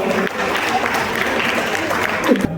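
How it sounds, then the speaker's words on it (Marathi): Sustained applause from an audience at a sangeet night in Maharashtra, steady and fairly loud throughout, with a few voices and cheers mixed in. "एकदा जोरदार टाळ्या वाजवा"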